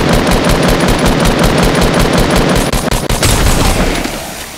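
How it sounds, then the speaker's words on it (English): Submachine gun fire in a Fortnite Battle Royale match, loud rapid bursts in a steady rhythm close up, fading near the end. "Keep on shooting."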